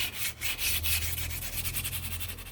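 Fine sandpaper rubbed lightly over wood in quick, even back-and-forth strokes, a close, steady rasping with no voices.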